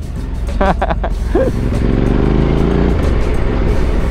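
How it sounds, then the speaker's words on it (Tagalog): A motorcycle on a night ride revs with a modest, not very loud exhaust, the engine rising and holding close by under a steady road rumble, with a voice briefly heard at the start. "Nakakatawa dito sa motor natin kasi hindi naman ganun kalakas yung exhaust, pero ang angas pakinggan."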